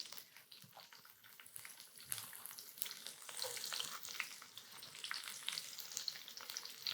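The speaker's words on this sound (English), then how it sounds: "That is the best sound in cooking, right? The sizzle." Food sizzling and crackling in a frying pan, a close, busy spatter of pops with some stirring scrapes, steady and moderately loud with no talk.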